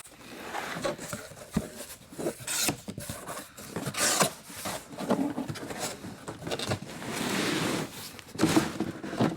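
A large, heavy blow-molded plastic case for a Matco BJPXR9 ball joint press is handled and opened, with close scraping, rubbing and clunking of plastic and latches in irregular bursts.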